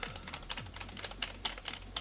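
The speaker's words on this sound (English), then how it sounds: "It has really clicky buttons." Clicky buttons on a Victrix Pro leverless fightstick controller are pressed in quick succession, giving a series of light, crisp clicks at an uneven rhythm, close up and fairly quiet.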